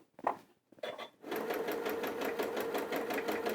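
A sewing machine stitches a dress seam, running steadily and close at a fast even rhythm after a few brief starts and pauses, with pins in the fabric.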